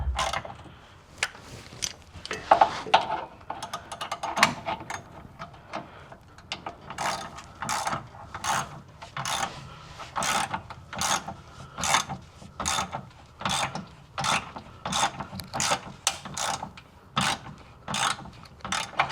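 A hand ratchet tightens a bolt on a Mitsubishi 3000GT adjustable control arm, with clicks at first irregular and then a steady rhythmic series of ratcheting strokes, close and clear, with no talking.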